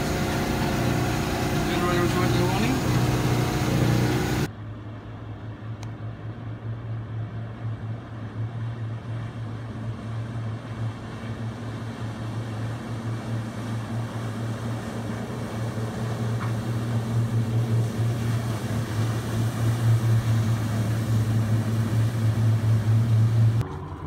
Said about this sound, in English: Moving up the intracoastal waterway using the docking on command.